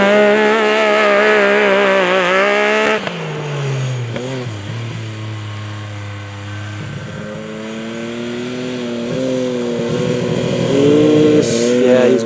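A Yamaha YXZ short course car drives on a dirt track, its engine revving and shifting with rising and falling pitch, loud and fairly close, with some background voices.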